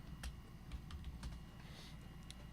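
Quick, uneven keystrokes on a computer keyboard click faintly over a steady low background hum, a short burst of typing with no voices.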